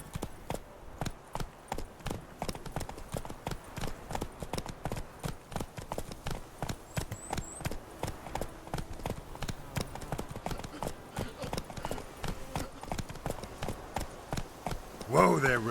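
Roach, a horse in The Witcher 3, clip-clops along in a steady fast rhythm of hooves throughout, close and continuous, with faint voices and game sounds underneath.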